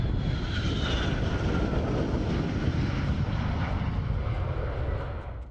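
A MiG-31 supersonic interceptor jet roars past overhead, a loud sustained rumbling engine noise that slowly fades toward the end.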